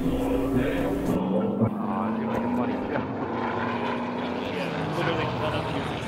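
An airplane drone over a city, a steady low propeller-like rumble with a faint rising pitch, held continuously at moderate distance under music and background noise.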